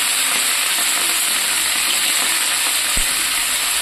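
Cauliflower with salt and turmeric fries in a pan until browned, a loud, unbroken sizzle and crackle close up, with a single soft knock midway.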